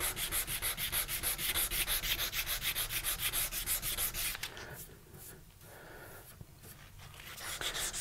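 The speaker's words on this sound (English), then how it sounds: "On to my absolute favorite part, the hand sanding." Rapid, steady back-and-forth rasping of sandpaper worked by hand over the steel of a coil-spring integral hunting knife, loud and close for several seconds, then pausing into quieter, irregular rubbing strokes that build again at the end.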